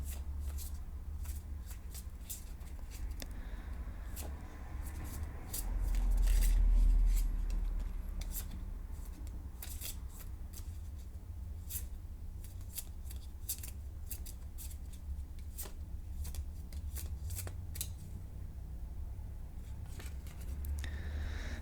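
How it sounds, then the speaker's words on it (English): Lenormand cards from the seventh sphere deck are shuffled by hand for a reading, a long run of rapid, close, riffling clicks and slaps that repeat steadily over a low background hum, with no voice. "I shuffle until Spirit tells me to stop."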